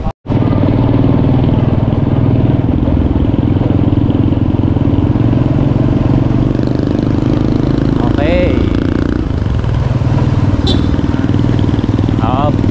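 A motorcycle engine runs loud and close, a constant rumbling drone as it rides along, with a few brief higher squeaks near the end.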